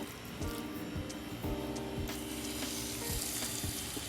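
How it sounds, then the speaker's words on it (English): Loud, continuous sizzling of fish frying in butter in a hot pan, with occasional soft scraping and clatter underneath, no talking. "Hear that sizzling? That's a good sign"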